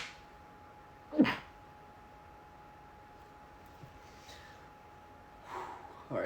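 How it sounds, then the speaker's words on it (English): One sharp, nearby sneeze bursts out of a quiet room, followed later by softer breathy sniffs and a second building sneeze at the end. "I gotta sneeze."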